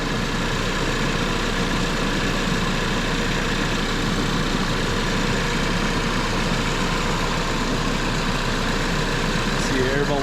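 A car engine idles steadily while its cooling system fills with fluid, a constant close-up hum and rumble that holds even for the whole stretch.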